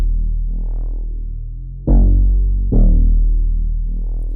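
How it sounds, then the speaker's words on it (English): Deep, booming bass notes in a simple pattern, with a note sliding in pitch, playing alone and loud. "It's just a simple bass pattern with a slide note here."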